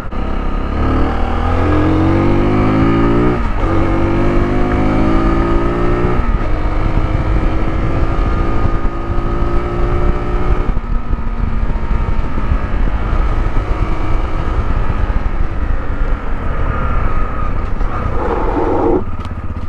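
A 2021 Sinnis Terrain 125 motorcycle rides over a bumpy off-road section, its small engine loud and close, pitch climbing through gears in rising sweeps before settling into a steady drone with wind rush.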